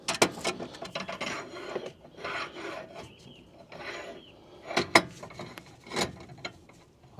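Wrench or ratchet work tightening a new track rod on a Peugeot 406: scattered rasping, clicking and scraping bursts of metal on metal, close and moderately loud, with brief pauses and no voices.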